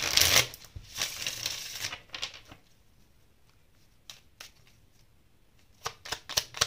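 Tarot cards riffle and slap in a loud burst, then go quiet apart from a few soft flicks and snaps as cards are drawn and laid down, close by with no talking.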